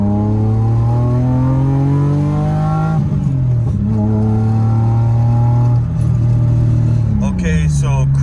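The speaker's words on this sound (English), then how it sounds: "now I'm about to jump on the highway so we can see the highway cruising speeds and like the RPMs" A BMW E30 engine revs hard through several gears as the car accelerates onto a highway, loud and close, with pitch climbing then dropping at each shift.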